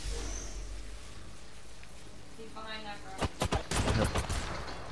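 Video game gunfire: after a quiet stretch with a brief voice, a tight burst of several loud, close shots rings out near the end, followed by more rattling fire.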